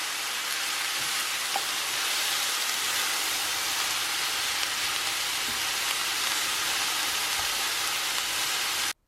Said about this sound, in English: once your frying pan is nice and hot, pop in your mushrooms and onion and any other vegetables you'd like and get them nice and cooking and browned away